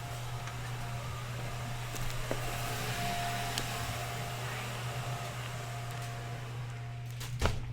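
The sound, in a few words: vacuum cleaner running behind a closed door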